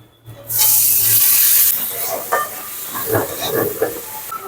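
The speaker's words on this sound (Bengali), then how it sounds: "টমেটো পেঁয়াজটা ভালো করে ভেজে নিয়েছি" Loud sizzling of tomato and onion frying in a pan, with scraping and stirring clatter as it cooks, close up, no voices.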